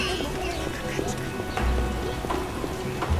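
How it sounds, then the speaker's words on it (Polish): Steady patter of rain falling in The Witcher video game, with scattered drip and splash accents over a constant hiss, heard behind someone talking. "O Jezu, jak ścina jeszcze deszcz."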